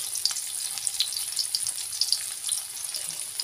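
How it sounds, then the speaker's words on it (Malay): Sliced shallots and garlic frying in hot oil in a wok, a steady close hiss with scattered light crackles and pops throughout. "kita tumis bawang merah dengan bawang putih iris"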